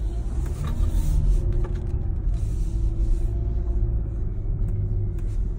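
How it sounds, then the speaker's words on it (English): A car with a pedalbox throttle controller set to city mode accelerates, its engine giving a steady, deep rumble from inside the cabin that builds slightly and holds with no talk. "I'm accelerating pretty much exactly as I did before, just as I normally would."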